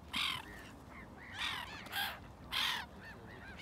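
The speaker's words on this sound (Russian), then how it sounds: "Ворона прилетела даже." Several loud caws from a crow near a sandy shore where pigeons and swans gather, coming in distinct bursts of two or three harsh calls with short pauses between, no talking.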